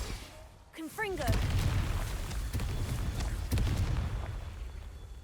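A Confringo fire spell explodes in Hogwarts Legacy, a deep booming blast with rumbling low tail after a brief whooshing cast, followed by a second heavy impact; a voice is heard briefly at the start.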